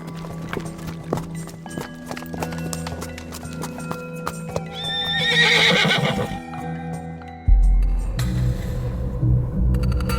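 Horse hooves clip-clop close by as a rider mounts, followed by a loud neigh and whinny, then heavier hoofbeats as the horse moves off, set in an audio drama scene.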